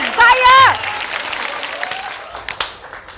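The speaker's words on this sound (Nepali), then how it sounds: "अहिले ताली बजाएको" Studio audience applause on a Nepali comedy news show, a broad wash of clapping that follows a brief voice and then fades to a lighter patter.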